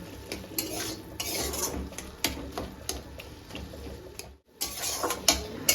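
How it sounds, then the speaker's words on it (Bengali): A spatula mashes boiled potato in a pan in a tomato and fish curry, making repeated scraping and clacking strokes against the metal at an irregular but steady pace. A brief pause breaks it before the scraping resumes. "এটাকে খুন্তিতে করে হালকা হালকা করে দেখো এরকম গেলে নেবো"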